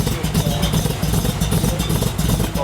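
Close, loud, steady lumpy idle of a 1976 Chevy van engine fitted with a Comp Cams show cam, a choppy rhythmic rumble running continuously without any speech.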